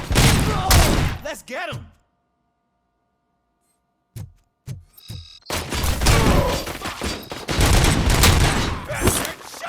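Gunfire bursts in the shooter game Robocop: Rogue City, loud and dense over several seconds with a short quiet gap, overlapping shouted voices.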